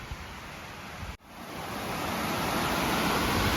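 Mountain creek waterfall on South Gorge Creek in the Rockies: a steady, broad rushing roar of falling water, close and continuous, briefly cut by a gap before swelling back, with no voices.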